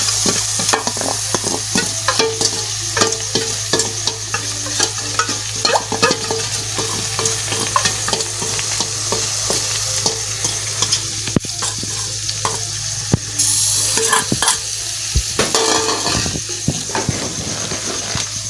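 Marinated chicken frying over a low flame while being stirred in a pan, a loud continuous sizzle broken by frequent scraping and clinking strokes of the spoon.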